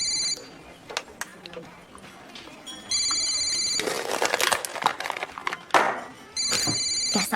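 A telephone rings in repeated bursts of bright electronic trilling, cutting in three times over a busy indoor scene with people talking and moving between the rings.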